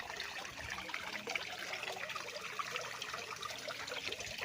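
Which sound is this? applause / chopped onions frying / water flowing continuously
water flowing continuously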